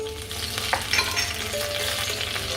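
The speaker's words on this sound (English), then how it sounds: "I'm going to start with adding some curry leaves." Curry leaves hit a tablespoon of hot oil in a pan and crackle and sizzle loudly, with a dense spitting hiss and sharp pops, close up and with no voices.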